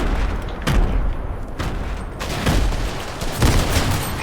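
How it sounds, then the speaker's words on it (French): Gunfire in the video game Fortnite, a rapid burst of shots and booming impacts in quick succession, loud and dense, with a few short gaps between volleys. "J'ai mis 61 balles."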